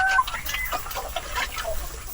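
Heritage chicken hen on a farm clucking while laying an egg, a few soft scattered clucks over steady background noise, moderately near.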